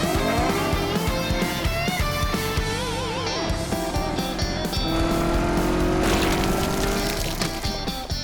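A cartoon car revs loudly and accelerates with squealing tires, dense and continuous over animated-series music and effects, holding at full volume throughout.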